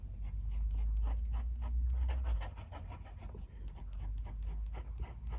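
A Lamy 2000 fountain pen with Diamine Oxford Blue ink writes across the toothy paper of an Archer and Olive B6 notebook, giving a close, steady scratchy rub in continuous strokes with no voices.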